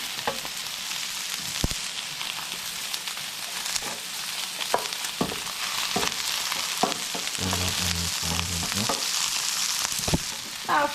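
Salmon and Brussels sprouts fry in a pan with a continuous loud sizzle, dotted with pops and a few stirring clatters throughout.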